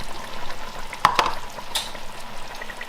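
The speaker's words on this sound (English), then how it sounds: "for the last 10 minutes I'm giving it a stir" A spoon stirs beef rogan josh with freshly added diced tomatoes in a pan, giving a couple of quick scraping knocks around the one-second mark and a faint later clink over a low, steady sizzle, with no talking.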